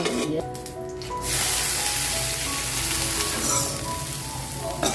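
Loud, steady sizzling of a tempering for horse gram sundal frying in hot oil, a crackling hiss that flares up sharply after a quieter start and keeps going without talk.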